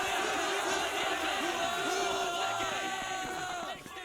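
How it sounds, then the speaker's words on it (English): A ceremony audience cheers and yells loudly as one crowd, a sustained roar that fades near the end. "everybody give a big cheer to these guys"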